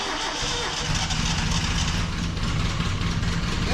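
An abandoned 1974 Datsun 620 pickup's rough engine chugs and rumbles steadily at close range, a low throbbing tractor-like idle with a harsh mechanical rattle, loud and continuous throughout.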